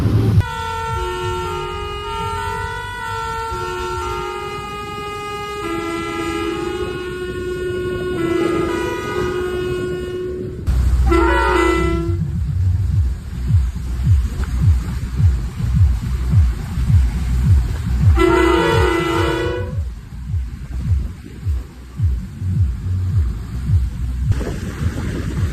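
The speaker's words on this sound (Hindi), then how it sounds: "आपने तो सुन ही लिया होगा, ये नेपाल के कुछ ऐसे प्रेशर हॉर्न है" Loud musical pressure horns from vehicles on a Nepal road blare in long melodic tooting sequences, interrupted by bursts of heavy engine rumble and further horn blasts close by.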